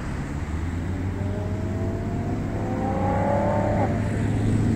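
A rare M390 car's engine revs and pulls away, its pitch climbing briefly over a steady background rumble, heard from a short distance.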